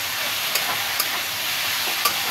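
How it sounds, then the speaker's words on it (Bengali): A sugared spice mixture for a mixed-vegetable chochori is stirred as it fries in a pan. It gives an even, moderately loud sizzle broken by three sharp clinks of the utensil. "নাড়াচাড়া করে একটু ঢাকা দিব।"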